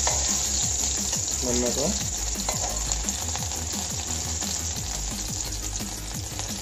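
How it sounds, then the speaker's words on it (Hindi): Garlic sizzles steadily as it browns in a frying pan for Italian-style pasta, with a constant loud frying hiss and occasional utensil taps, and a voice speaking briefly over it. "अब हम इसमें वो डालने जा रहे हैं, लहसुन डालने जा रहे हैं। थोड़ा सा इसको ब्राउन करेंगे"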